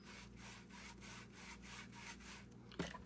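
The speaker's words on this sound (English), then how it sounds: "Does sandpaper annoy you when somebody's like sanding on live?" Sandpaper rubbed by hand over a thrifted lamp for a craft makeover, a rhythmic back-and-forth scratching of about seven even strokes, close and clear, with a small knock near the end.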